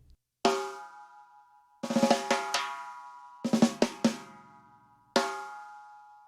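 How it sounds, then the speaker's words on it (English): Four separate drum hits with an open, undamped snare that rings out with long sustained overtones after each strike, spaced irregularly and played alone in a roots reggae style. "The other option with the snare drum is taking the ring off and bringing the ring back in"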